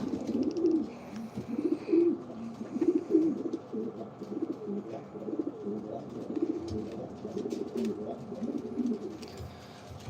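Pigeons cooing inside a loft, repeated low throaty coos in overlapping bursts, fairly close, with soft rustling and occasional chirps between them.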